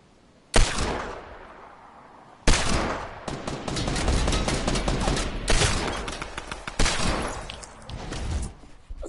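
Bursts of assault rifle fire from the Fortnite video game, loud and sustained, rattle off in rapid volleys with short gaps and a heavy opening crack, with no voices over them.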